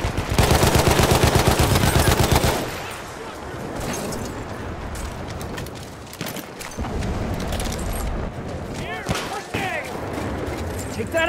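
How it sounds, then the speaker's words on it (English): A machine gun in the video game Battlefield 1 fires a loud rapid burst for a couple of seconds, followed by scattered gunfire, explosions and battle noise while voices shout over it. "That's an enemy machine gun!"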